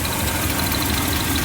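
A 1982 Mercedes 380SL engine, freshly fitted with a new timing tensioner, idles steadily and close by with a continuous low rumble and faint rhythmic ticking.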